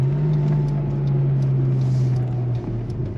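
A built VW Corrado VR6 engine with a Schimmel head and 268 cams idles with a steady, loud low drone and a noticeable dip in the idle near the end.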